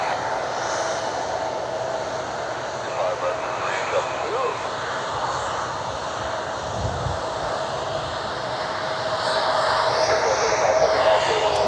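A Southwest jet airliner rolls out on a runway at Cleveland Hopkins airport, its engines producing a steady, broad roar that builds slightly toward the end, heard from a distance outdoors without talk.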